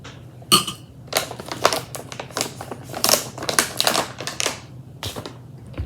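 A spoon clinks and stirs sugar into a cup of tea, a rapid series of sharp ringing taps and scrapes, close and fairly loud, for several seconds.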